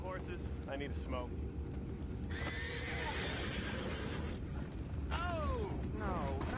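Horses neigh and whinny in a Red Dead Redemption 2 game scene, several rising-and-falling calls in the second half over steady background noise and faint hoof clatter, with people talking at times.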